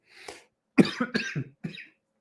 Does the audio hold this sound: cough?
yes